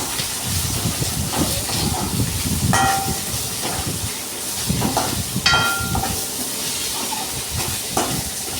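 Tomatoes sautéing in a pan for Tamil-style mutton curry give a steady hiss and sizzle, with a few brief scraping stirs breaking through the close, continuous frying noise.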